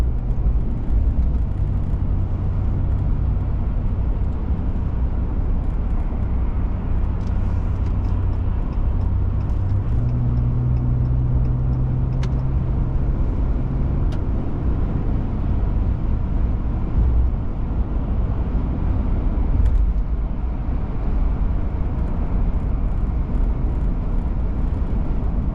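Inside a car driving home on the road, a loud steady low road and engine rumble fills the cabin without a break, with faint higher tones drifting through and no talking.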